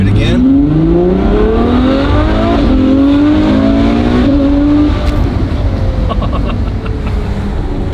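Ferrari F12 N-Largo V12 revving hard nearby, climbing through several rising pulls in quick succession before settling into a steady drone, loud and dominant with brief voices underneath.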